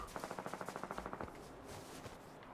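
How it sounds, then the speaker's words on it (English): Rapid automatic gunfire in the Fortnite video game, a fast burst of about fifteen evenly spaced shots lasting just over a second, followed by quieter game ambience. "They're shooting west"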